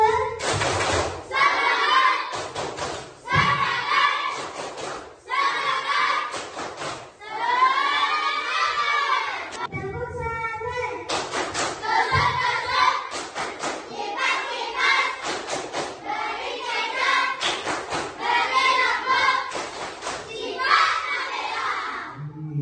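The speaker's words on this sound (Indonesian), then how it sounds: "Tepuk semangat." Schoolchildren clap a rhythmic pattern together while chanting in unison in a classroom, bursts of claps alternating with shouted chant lines, loud and energetic in a room.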